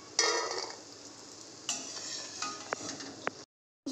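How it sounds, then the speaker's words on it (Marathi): Fried shankarpali are lifted from hot oil: a soft sizzle runs under clinks and scrapes of a metal utensil against the pan, with several sharp taps near the end before a brief silence. "आपल्या शंकरपाळ्या तळून रेडी आहेत, आता मी काढून घेते"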